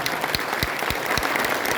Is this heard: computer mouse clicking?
no